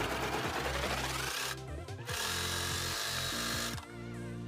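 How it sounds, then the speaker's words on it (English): A sewing machine stitches the crotch seam of homemade bike shorts, chaining off past the seam; a steady mechanical whir runs throughout, briefly dropping and resuming twice as speed changes, with no talk. "Continue sewing and chain off a couple inches after the crotch."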